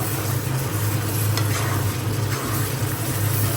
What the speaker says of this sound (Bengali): এখন আলুটা সাইডে রেখে দেবো, দিয়ে মশলাটা কষিয়ে নেব